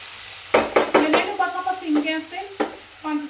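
Aloo methi sabzi with fenugreek, coriander, green chilies, garlic and cumin being stirred in a pan: a run of sharp scraping knocks as a utensil works the vegetables, with soft sizzling between strokes, close and clear.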